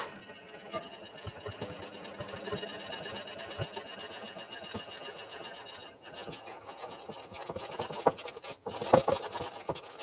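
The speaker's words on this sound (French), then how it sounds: "On ajoute la farine avec la levure. Et on vient mélanger le tout." Cake batter of flour, baking powder and salt for a Swiss apple tart is mixed in a bowl, giving a steady rapid patter of whisking or stirring scrapes, close and continuous, with no talk.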